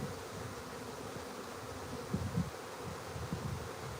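A swarm of bees hums in a dense, continuous buzz that stays steady and moderately loud, with a few closer individual bees passing and faint rustling.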